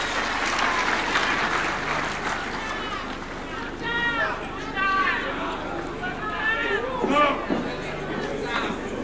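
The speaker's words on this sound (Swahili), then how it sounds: "Tupige makofi tafadhali, Mheshimiwa Rais." Audience applause at a 2025 devolution conference in Homa Bay, Kenya: steady, dense clapping across a large crowd, with voices and chatter rising over it throughout.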